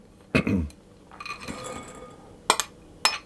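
Chopped mixed peel tipped into a bowl of mincemeat, giving a few sharp clinks of a utensil against the bowl with a soft scraping rustle between them, close and isolated.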